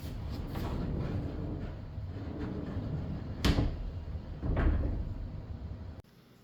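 A sliding barn door rolls along its overhead track in a steady rumbling glide, with a couple of sharper knocks partway through before the motion stops abruptly near the end.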